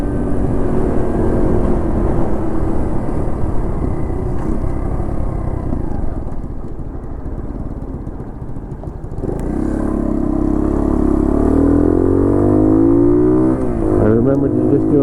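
A Honda CT70 Amigo 125 tribute motorcycle drones steadily while cruising around 40 mph, then its engine note rises as it accelerates, with someone talking over the ride noise throughout.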